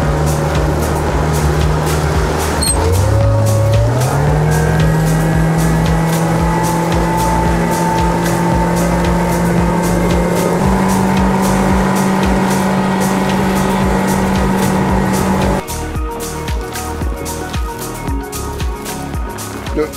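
A fishing boat's engine runs on the water of the Vaal Dam, a loud, steady drone that rises in pitch early on and holds, then roughens near the end.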